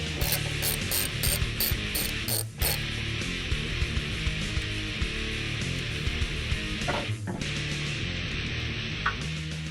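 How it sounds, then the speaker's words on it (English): Ratchet wrench clicking steadily while loosening the inner strut nuts and strut tower brace on a 2011-2014 Mustang, a close, continuous run of rapid metallic pawl clicks with a couple of brief pauses. "We're going to start by removing the 2 nuts on the inside of both sides,"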